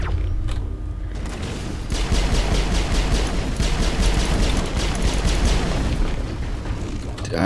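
Explosions and combat noise in Mass Effect 1, a heavy booming rumble with repeated rapid impacts rolling on continuously at a loud, close level for several seconds.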